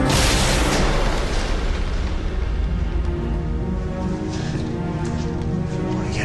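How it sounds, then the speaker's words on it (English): Heavy sci-fi explosions and weapon blasts as a Wraith ship fires on a ship in Stargate Atlantis, a loud continuous rumbling boom that fills the whole moment and slowly fades without speech. "The Wraith ship is firing on us."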